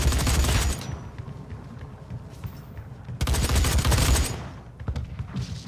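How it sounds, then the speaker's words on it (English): Heavy gunfire in DOOM multiplayer, loud bursts of repeated rapid blasts in two stretches with quieter crackling between, consistent with shotgun shots amid the match's chaotic action. "Shotgun."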